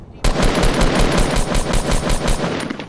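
Rapid automatic gunfire in the Fortnite video game, a loud, close burst of evenly spaced shots starting abruptly and running nearly three seconds without pause.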